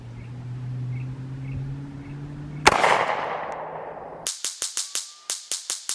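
Sig P365 pistol fired at a target on a range: one sharp shot, then after a pause a fast string of about nine crisp reports in quick bursts, loud and close with no voices.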